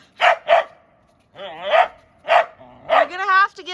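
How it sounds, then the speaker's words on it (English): Dog barking at chickadees outside in a home garden setting: several sharp, close barks in quick bursts with a short whiny yip, loud and near, separated by brief pauses. "How am I supposed to make a video with you constantly barking at the chickadees?"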